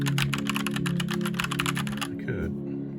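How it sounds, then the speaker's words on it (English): Rapid, steady clicking of keys on a SteelSeries Apex M750 mechanical keyboard, fast typing over a low hum, ending with a brief pause and a short different noise. "I'll do a typing test for you."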